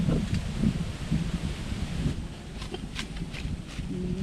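Steady wind blows outdoors, a broad rushing hiss with gusty swells, plus some faint rustling and scattered thumps in the background.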